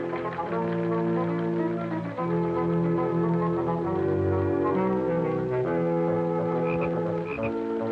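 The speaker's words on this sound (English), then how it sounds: "Joel Harris, you take that frog out of the house this instant." A frog croaks steadily inside a house, a loud, sustained low droning call that keeps going for several seconds with only brief breaks, with no talk over it.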